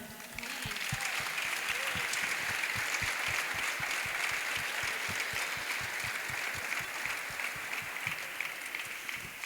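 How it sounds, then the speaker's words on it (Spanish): Church congregation applauding during a Spanish-language service, a steady, fairly quiet wash of many hands clapping that continues evenly for around nine seconds with little talk. "Así que le damos un aplauso al Señor."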